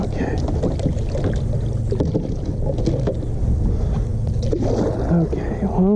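A paddle pulls a kayak through water while decoys drag behind, with a constant wash of moving water, wind buffeting the microphone and small splashes close by.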